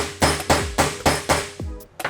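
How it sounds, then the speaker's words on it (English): Steel hammer blows driving a hole punch through sheet metal on a VW Bus restoration, six sharp ringing strikes at a steady beat with short metallic decays, close and loud with no talking. "And you just take a hammer,"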